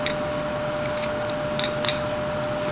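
A knife shaves and thins wood while carving a Swedish folk rooster, giving short, crisp scraping strokes, a few clustered close together, over a steady faint hiss.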